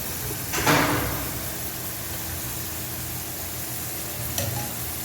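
French fries frying in a pan of hot oil, a steady broadband hiss with a brief scrape or stir near the start and another near the end; no voices.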